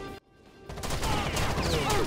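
Gunfire in the shooter Rainbow Six Vegas 2: a short silence, then a sudden burst of rapid shots and impacts that stays loud and dense to the end.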